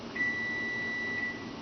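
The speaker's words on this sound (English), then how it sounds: "There's the timer." A kitchen timer gives one long, steady electronic beep lasting just over a second, faint against a quiet room, with no talking.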